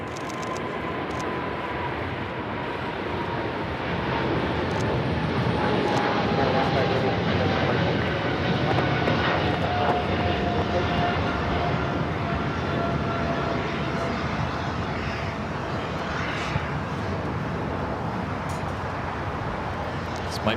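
A Japan Airlines Boeing 777-300ER departing Los Angeles International Airport, a sustained loud jet engine roar with a slowly falling whine, a voice talking over it.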